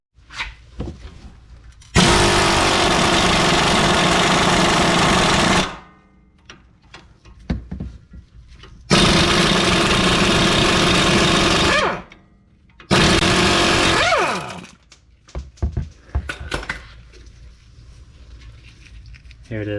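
An air tool works a sway bar link nut on a 2018 Infiniti QX60, three loud sustained bursts of pneumatic whirring separated by clinks and handling noise, up close.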